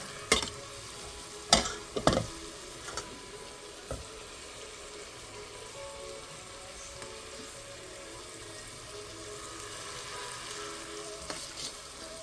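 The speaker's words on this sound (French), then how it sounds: "Vous ajoutez comme ça de riz tout dans la casserole." Rice sizzles quietly in a pan, with a few sharp scraping clicks from stirring early on, then a soft steady frying hiss.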